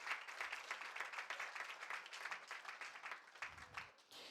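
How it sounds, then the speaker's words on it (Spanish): A church congregation applauds a visitor from Peru, giving a soft, continuous patter of many hands that tapers off near the end, heard from some distance. "le damos un fuerte aplauso al Señor"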